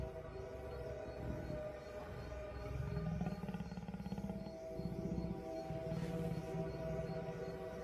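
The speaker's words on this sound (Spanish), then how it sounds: "reconocen los rugidos de su madre" Lioness roaring at night on the African savanna, deep rumbling moans that rise and fall in a slow rhythmic series, distant and layered with other low night sounds.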